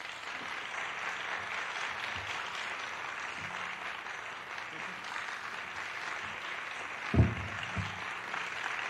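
Students in an audience applaud a guest speaker, actor Ossie Davis, with a steady wash of clapping throughout, a few louder claps near the end.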